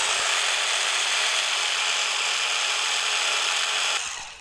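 An electric mixer whipping egg whites into meringue for cloud bread, making a loud, steady high whir up close that runs without a break, then winds down abruptly near the end. No talking.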